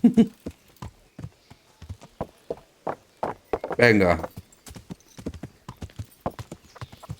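Horse hooves clip-clop at an uneven walking pace in the medieval video game Kingdom Come: Deliverance. The horse snorts or whinnies midway, and someone says a word briefly.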